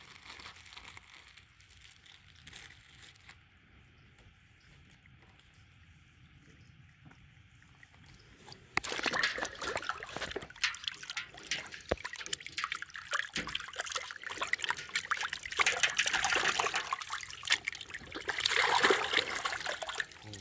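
Running water rinses a squirrel carcass during field cleaning, starting as a faint trickle and then turning into a loud, steady splashing rush for the remainder.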